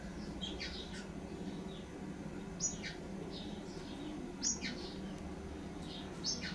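Small blackbird chick calling while being fed in a garden: a few short, high thin cheeps spaced a second or two apart, fairly faint over a steady low background hum.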